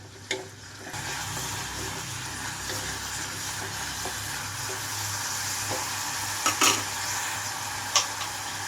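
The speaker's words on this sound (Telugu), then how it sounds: "రెండు నిమిషాల తర్వాత చూడండి మెంతి కూర అంతా వేగిపోయింది ఇక్కడ" Fenugreek leaves frying in a pan, a steady close sizzle with occasional sharp ticks and a few brief clanks of stirring, no talk.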